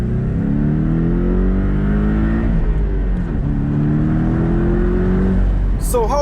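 A Porsche 718 Boxster T engine revs and accelerates steadily, its tone climbing through gear changes, loud and close throughout with no talking.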